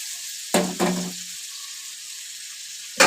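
Dried aair fish dropped into a pan of sizzling cooked spice masala gives two sharp bursts of sizzle within a steady background frying hiss, then a third burst near the end.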